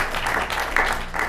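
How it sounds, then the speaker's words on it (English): Game show studio audience claps in a dense, steady burst of applause, fairly loud and close, with no pauses over its short span. "Round of applause."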